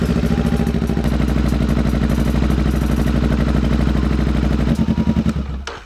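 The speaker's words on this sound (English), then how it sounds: "So we're just gonna let the bike run for a few minutes." A new Honda Rebel motorcycle's engine idles close up, a loud, steady, throbbing rumble warming up before an oil change, turning choppy and then cutting off at the end.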